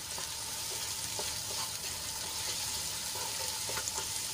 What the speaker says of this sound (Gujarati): તો ડુંગળીને આપણે ઢાંકીને સંતળાવા દઈશું